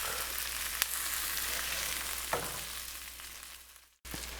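Sausages lined up in a pan with tomato paste and onions fry with a steady, broad sizzle throughout, plus a couple of brief utensil knocks, before a short break and the sizzle resumes.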